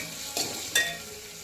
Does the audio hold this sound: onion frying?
yes